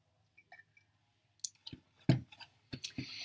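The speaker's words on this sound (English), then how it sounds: "So Michael, type a few things and hit enter so I can see them" Sparse clicks and taps from keys on a computer keyboard come in small irregular bursts with silent gaps, close and crisp, with no talk over them.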